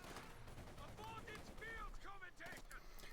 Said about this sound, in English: heavy assault rifle fire and battle rifle fire against the conscripts